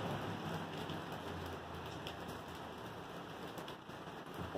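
Rain falling steadily outdoors, a soft continuous hiss of drops with no voices.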